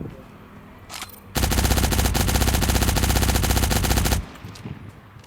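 Sustained automatic gunfire from the video game Cyber Hunter, a dense, loud burst of rapid shots lasting about three seconds, with quieter game sounds before and after.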